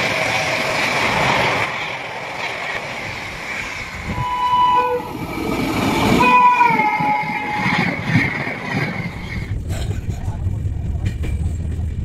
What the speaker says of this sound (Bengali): তো আমরা ট্রেনে উঠে গেছি আর সিটটাও আমরা ঠিকঠাক পেয়ে গেছি।